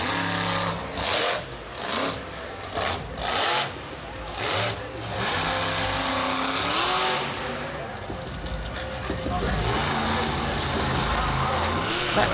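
Ice Cream Man monster truck at Monster Jam Jacksonville 2014, its engine revving in loud repeated bursts that then merge into a sustained roar, with the arena noise behind.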